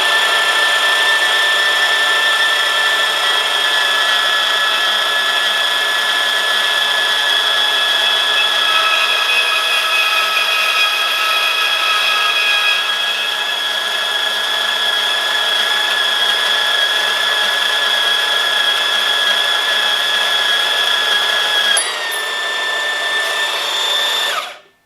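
A Bosch GCB 18V 127 cordless band saw cuts through material in a test, its motor whining steadily with a high, even tone for about twenty seconds before the pitch shifts and the blade spins down.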